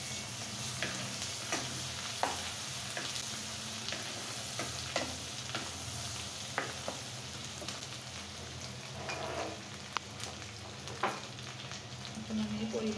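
Spice paste frying in a pan with onion, ginger and green chili, a steady close sizzle with occasional stirring scrapes and crackles running throughout.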